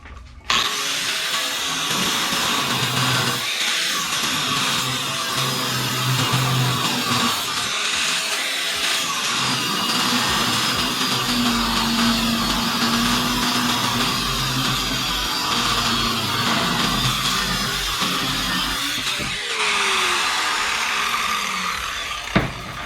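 A cutting wheel grinds through metal while modifying a Toyota JZX100 spindle. A loud, harsh, continuous abrasive roar holds steady for over twenty seconds, close up and without speech.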